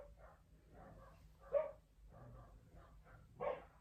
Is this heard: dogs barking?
yes